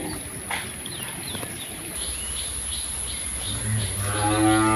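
A cow moos in a rural village during the rainy season, a few drawn-out lowing calls that grow louder toward the end over steady rain and insect noise.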